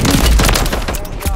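Rapid gunfire and explosions from a Warzone match crackle in dense overlapping bursts, loud and close, with booming low thuds underneath and a player's voice mixed in at times.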